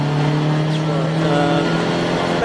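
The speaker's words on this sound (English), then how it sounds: "You can hear the rotary engine of the Mazda RX-8 in the background" The supercharged rotary engine of a Mazda RX-8 racing in a 750MC Roadsports event at Snetterton, a steady loud drone with tonal harmonics, sustained throughout without a break.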